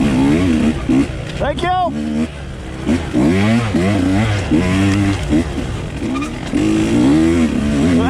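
Husqvarna TE 150 two-stroke dirt bike ridden in a hare scramble at Far Reach Ranch, the engine revving up and down in loud, close bursts under a rider talking throughout.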